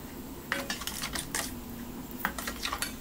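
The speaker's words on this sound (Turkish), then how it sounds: "Kontrollü bir şekilde suyu ekleyelim ve karıştıralım." Ash paste is stirred with added water to a yogurt-like consistency for curing olives, producing close, irregular clinks and scrapes of a utensil against a bowl in two short bursts.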